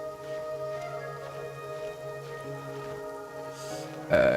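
Rain falls in the Genshin Impact video game as a soft, steady patter under sustained tonal game music, swelling into a louder rush right at the end.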